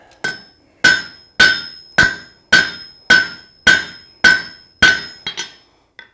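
Hammer blows on hot steel at an anvil while forging a meat hook: about ten loud, evenly spaced ringing strikes with metallic decay, finishing with a few lighter, quicker taps.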